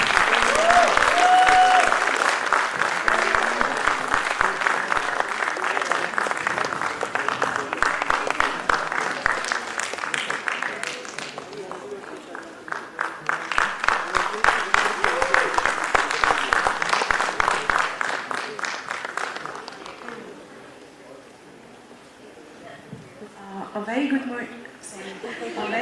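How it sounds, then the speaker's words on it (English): An audience at a foundation day celebration claps loudly in a sustained round that fades, swells again, then tapers off, with a voice briefly heard under it. "Please give her a round of applause."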